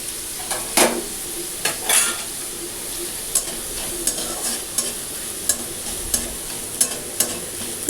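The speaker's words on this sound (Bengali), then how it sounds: "পেঁয়াজ, কাঁচা লঙ্কা, ক্যাপসিকাম, টমেটো কুচি দিয়ে ভাজা ভাজা করে একটু ভেজে নিচ্ছি।" Chopped onion, green chilli, capsicum and tomato stir-frying in oil in a pan: a steady sizzle broken by regular spatula scrapes and taps about once a second, close up and without speech.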